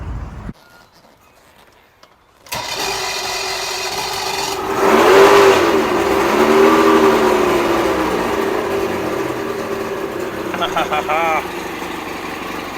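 Two-stroke outboard engine firing up after a carburetor rebuild, starting after a brief quiet moment and then running on in a steady, raspy, high-pitched drone, loud and close for several seconds.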